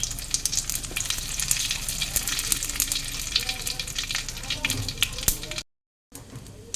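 Cumin, dry red chilli and bay leaves crackle in hot oil as a tempering for cooked dal, a dense close sizzle with sharp pops throughout, briefly cut out near the end before resuming.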